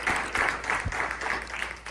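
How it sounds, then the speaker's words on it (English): An audience at a women's conference applauds its panelists with a steady, fairly close wash of clapping that fills the short moment. "So a round of applause to our panelists."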